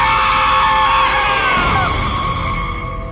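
A frightening scream sound effect in a Hindi horror audio drama set at Bhangarh Fort, a loud drawn-out wailing cry over a dense, eerie backdrop that lasts the whole stretch and fades slightly at the end.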